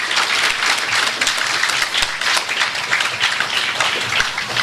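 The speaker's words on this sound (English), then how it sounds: "Please give them another special round of applause." A large crowd at a National Cooperative League event in 2019 applauds students with dense, loud, continuous clapping that fills the whole stretch and carries no talking.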